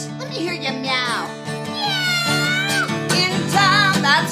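Voices imitate a cat, singing drawn-out, sliding meows in a song-like way, with several voices overlapping at close range and a tonal backing underneath.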